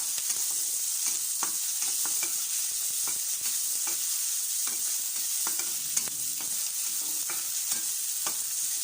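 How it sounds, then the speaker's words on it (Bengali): Small shrimp fry in a pan with turmeric, sizzling steadily up close while scraping and stirring strokes repeat throughout. "এরপর কুচো চিংড়িগুলো দিয়ে দিব এবার এটা ভালো করে একটু ভেজে নেব"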